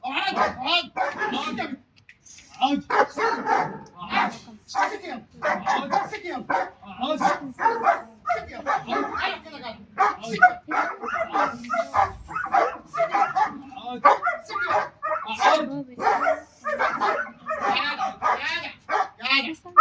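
A dog barks repeatedly in short bursts and whimpers, close by, while someone talks sternly over and between the barks.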